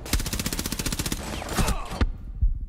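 Rapid automatic gunfire in Rainbow Six Siege, a loud sustained burst of evenly spaced shots that stops abruptly, followed by a few scattered single shots and a quieter game tail.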